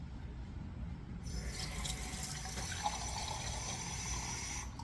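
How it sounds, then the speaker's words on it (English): A cup of water is poured for homemade lemonade, a close, steady liquid fill that swells in brightness after the first second and runs continuously without talk. "you're going to add 1 cup of water"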